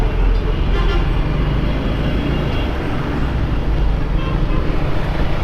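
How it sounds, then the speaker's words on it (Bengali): Road traffic crowded with auto-rickshaws passing a moving motorbike: a constant loud roar of engines and wind, with short horn toots and vehicle noise swelling and fading. "পুরা রাস্তা অটোরিকশার দখলে রে ভাই"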